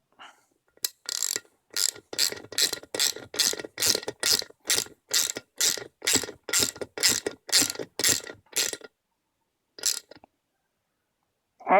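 A ratchet tightens a valve spring compressor in a rapid, even run of about twenty close, crisp clicks, followed by a pause, two more clicks and a final click.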